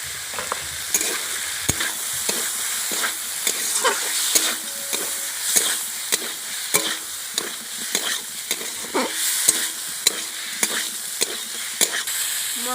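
Spices with turmeric powder and salt are stir-fried in a pan, with a constant close sizzle under regular scraping strokes of a spoon, repeating every second or so.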